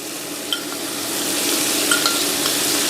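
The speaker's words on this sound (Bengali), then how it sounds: "সামান্য তেল এবং বাটারের সংমিশ্রণে আমি প্রনটা ভেজে নিব।" Marinated prawns fry in a small amount of oil mixed with butter, making a loud, steady close-up sizzle with a few faint clinks of a utensil.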